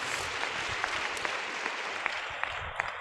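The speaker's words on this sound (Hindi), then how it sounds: "जोर से ताली बजाएंगे यीशु जी के लिए" A crowd at a Christian worship gathering claps together for Jesus, a dense steady wash of hand claps at moderate level with a few sharper individual claps standing out, lasting throughout.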